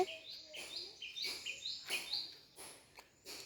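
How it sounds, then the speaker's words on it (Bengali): Several birds call and chirp in a village outdoors, with repeated short bright tweets coming in bursts at moderate distance, while faint voices are heard in the background. "এখানে অনেকগুলো পাখি ডাকছে"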